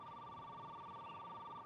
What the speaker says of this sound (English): Excuse me, that's my private phone.